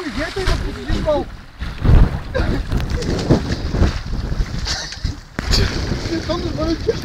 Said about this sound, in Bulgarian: Духа вятър, гадно е!